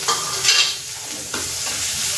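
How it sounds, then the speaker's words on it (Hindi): Chopped garlic, onion and ginger sizzle loudly in hot oil as a tempering for dal, a steady frying hiss with a few sharper crackles and stirring scrapes up close. "मैं जो लहसुन प्याज और अदरक काट कर वो मैं डाल दूंगी और दाल को तड़का लगा दूंगी"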